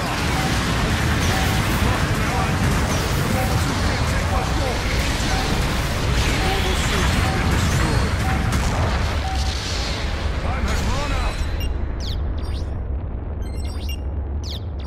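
Artillery support fire pounds the ground in the Gundam Battle Operation 2 (GBO2) mech game, a dense, continuous roar of explosions and booms over about ten seconds with voices talking over it, then dropping to a quieter rumble with scattered sharp clicks.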